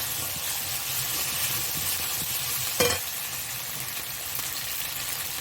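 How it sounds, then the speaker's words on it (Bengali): Tomato and green chili go into a pan of masala being fried for rohu fish kalia, giving a steady loud sizzle with a brief splashy burst as they drop in, then continued frying hiss. "মশলাটা ভালো করে কষিয়ে নিয়েছি, এবার টমেটোটা দিয়ে দেব। কাঁচা লঙ্কা দিয়ে দেব।"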